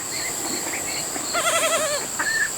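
Nigerian Dwarf goats bleat on a small farm, with several wavering, quavering calls over steady insect and bird chirping in the background; no one speaks.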